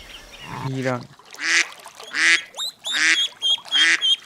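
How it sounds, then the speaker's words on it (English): Duck quacking for a children's animal-sound series: a string of five or six loud, nasal quacks in an uneven rhythm, close and clear with no talk. "duck,"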